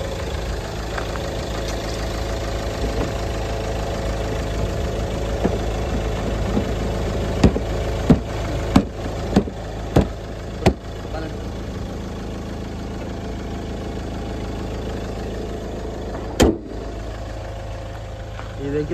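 A 2016 Mahindra XUV500 W6 diesel idles steadily with a low, even hum, interrupted by a few sharp clicks and knocks around the engine bay midway.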